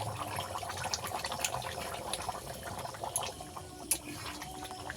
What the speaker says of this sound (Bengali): জল দিয়ে দিয়ে দেবো